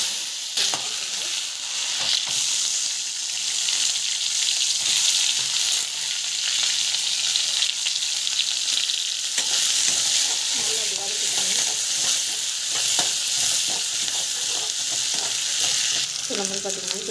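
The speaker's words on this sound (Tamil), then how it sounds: "கடுகு சீரகம், கடலைப்பருப்பு நல்லா வதங்கணும்." Mustard seeds, cumin and chana dal sauté in oil in a pan, making a bright, steady sizzle and crackle with intermittent spoon stirring and clinks, close and loud throughout without speech.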